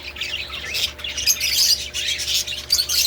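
Birds squawking and chirping busily while being fed mung bean sprouts, a dense run of calls holding steady and fairly loud over a low background hum.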